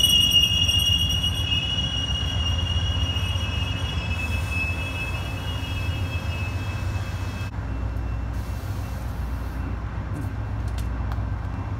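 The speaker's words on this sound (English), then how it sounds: "My Amtrak is here." An Amtrak passenger train pulling into a transit center, with a loud continuous rail rumble and sustained high wheel squeal that cuts off partway through, close by.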